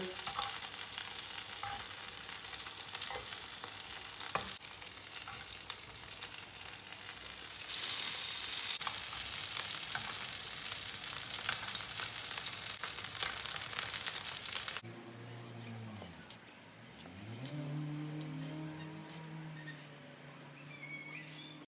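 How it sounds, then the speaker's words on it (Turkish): Köfte meatballs frying in a pan, a steady, dense sizzle for most of the stretch that drops lower and quieter near the end, close and with no talking. "Köfteleri çevre çevre pişirdik."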